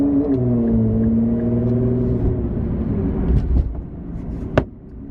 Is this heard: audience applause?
no